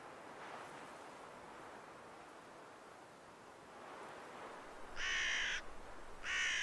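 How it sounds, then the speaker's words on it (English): Two loud crow caws come close together near the end, standing out over a soft, steady wash of wind or surf. "one of the crows flies down to land on the rock that Kaylee is resting against."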